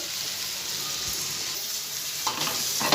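Vegetable bhaji frying in a pan, a soft continuous sizzle with a few brighter clinks and stirring scrapes near the end, close and steady with no speech.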